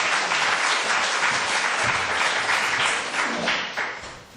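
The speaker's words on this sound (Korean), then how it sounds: "이 시간 나오실 때 환영의 박수로 한번 맞이하도록 하겠습니다." Church congregation at a Sunday worship service applauding to welcome a pastor to the front, a dense, sustained wash of many hands clapping together, loud and steady throughout before easing slightly at the end.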